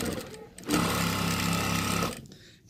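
A sewing machine stitching T-shirt quilt pieces, a loud close steady whirring hum with rapid needle chatter that runs for over a second and then stops.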